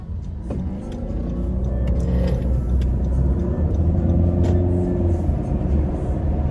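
Dodge SRT car engine, a low, steady rumbling idle that swells slightly as if revved, heard alone and fairly close for several seconds.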